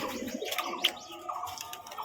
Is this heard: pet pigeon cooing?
yes